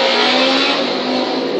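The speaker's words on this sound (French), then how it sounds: "tout le temps avec ces bruits de moto" Loud, close motorcycle engine revving outside a home, a sustained buzzing roar that swells and holds steady without a break, no talking over it.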